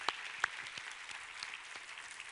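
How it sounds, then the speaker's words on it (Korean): A Korean church congregation gives a round of thankful applause to God after a scripture reading, a soft, steady patter of many hands with a couple of sharper nearby claps. "우리 하나님께 감사와 영광의 박수 올려드리겠습니다."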